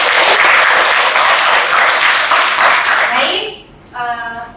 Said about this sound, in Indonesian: kita berikan tepuk tangan untuk semangat kita